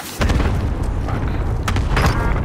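A cluster strike explodes in a video game, making a loud, heavy, continuous rumbling boom that fills the whole moment, with sharper blasts bursting through near the middle and end.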